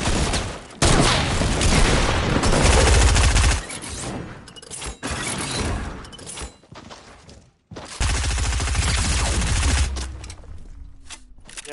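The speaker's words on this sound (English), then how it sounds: "I sniped the one as he was coming in to push us" Rifle fire and heavy combat noise in the battle-royale game Fortnite, a loud dense stretch of shots and blasts that drops out briefly midway, then returns just as loud, with no talking.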